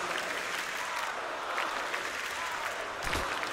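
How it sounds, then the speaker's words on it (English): At a CS:GO grand final between SK Gaming and Astralis in Copenhagen, a large arena crowd applauds and cheers continuously, a dense, loud wash of clapping and voices. "The crowd is loving this."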